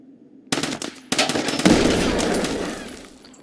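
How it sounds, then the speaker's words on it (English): Grenade launcher firing in a first-person shooter, heard as two sharp launch thumps followed by a loud, sustained rumbling blast with gritty debris that slowly fades. "Grenade launcher, that's interesting."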